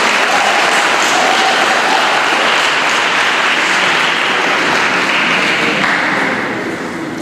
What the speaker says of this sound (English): Okay, you can give them all a round of applause.